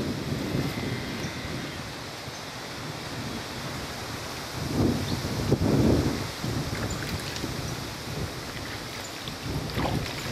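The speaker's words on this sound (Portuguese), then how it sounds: "Muito, mas muito, muito vento." Strong wind buffets the microphone on a fishing boat on a river near Corumbá, a dense continuous roar with gusts that swell and fade.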